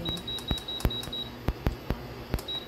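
A kitchen timer is set while cooking creamy spaghetti, giving sharp button clicks in an uneven series with a thin high beep sounding intermittently underneath, close and fairly quiet, with no talk.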